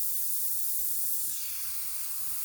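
Airbrush spraying paint while working on a spring crocus painting, a steady, close airy hiss running unbroken throughout with no voices.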